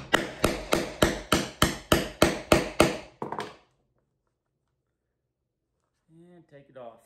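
Burr setter tapped down with a hammer to set a copper rivet: nine sharp, evenly spaced metallic taps followed by a couple of lighter ones, then quiet and a brief voice near the end.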